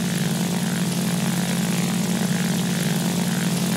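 The Focke-Wulf Fw 190 A-1 in War Thunder is pushed to overheat, its piston engine giving a loud, steady propeller drone with a strong low hum throughout.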